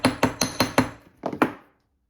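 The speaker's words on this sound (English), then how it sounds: "another thing I like to do with fish hooks is if you would just take it and gently hammer it at the top" A small hammer gently taps the top of a wire fish hook ear wire, five quick metallic strikes in a steady rhythm, a short pause, then two or three more close, sharp taps before silence.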